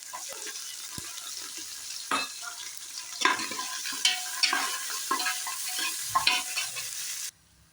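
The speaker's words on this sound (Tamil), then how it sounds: "அடுத்தது வெங்காயம் போட்டு நல்லா எல்லாம் கிளறி விட்டுருங்க" Onions frying with garlic in a pan for mutton curry, stirred with steady sizzling and a run of scraping strokes and utensil knocks, close and fairly loud, ending abruptly.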